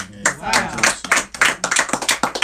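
Clapping at a live talk on addiction and recovery, in crisp uneven bursts close by, rising and falling rather than keeping a steady beat.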